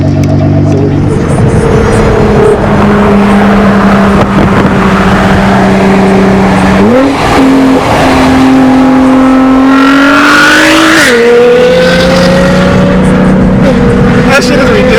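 A tuned 2009 Nissan GT-R with a track exhaust revs loudly and close, its engine note holding steady, then rising and falling through several blips.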